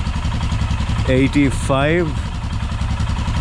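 A Royal Enfield Himalayan with a Red Rooster exhaust and the stock dB killer idles about a meter away, a steady low rumble running under a voice.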